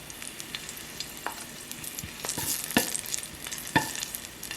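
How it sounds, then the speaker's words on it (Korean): Five cloves of garlic sizzling in two tablespoons of oil in a pan over low heat, a steady close frying hiss with occasional pops and stirring clicks. "약불에서 마늘 오일을 만들어 주세요."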